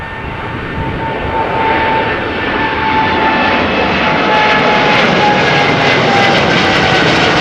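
A TUI Boeing 787-8 Dreamliner runs its jet engines at windy Amsterdam Schiphol Airport with a loud, steady roar and a whine. The roar swells a little over several seconds and no one speaks.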